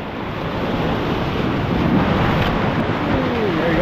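Ocean surf on a fishing beach rolls in as a continuous wash of breaking waves, loud and near, with wind buffeting the microphone throughout.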